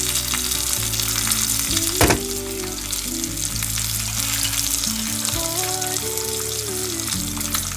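One large onion hitting hot oil with cumin in a pan for chole, a dense continuous close sizzle with a sharp crackle burst early on, steady throughout, with faint background tones and no talking.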